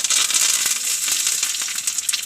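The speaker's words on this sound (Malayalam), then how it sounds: "വേപ്പിൻ്റെ ഇല ഇടുന്നു." Curry leaves hit hot oil over fried onions as the tempering for a kozhuva fish curry, giving a loud, steady sizzle with crisp crackles and a few sharper pops throughout.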